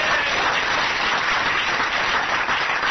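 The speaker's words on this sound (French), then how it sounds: "recevoir illico vos applaudissements" Studio audience applause on a French radio comedy panel show, a broad wash of clapping that stays even and sustained from start to finish, with no speech on top.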